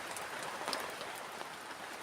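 Steady rain pattering on surfaces at a campsite at night, a constant dense hiss with scattered drop impacts, close and even throughout with no talking.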